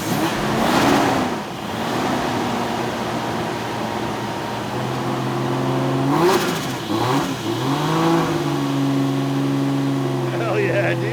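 A JDM car engine on a lift starts up and runs with a rough idle, rising and falling in pitch as it revs, while people talk nearby over the running engine.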